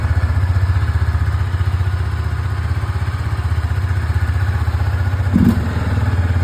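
Motorcycle engine running steadily after refueling by a roadside, a loud close rhythmic throb with a single brief thump partway through.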